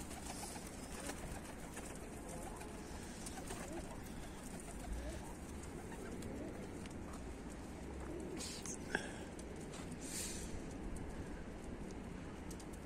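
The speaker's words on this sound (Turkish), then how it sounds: "Şu an iki düz kuşum havada. Diğerleri burada." Domestic tumbler pigeons of Turkish breeds such as Dönek, Mardin and Bango coo softly at a distance in an open-air loft setting, a faint low murmur with occasional bird calls, and a voice briefly audible in the background.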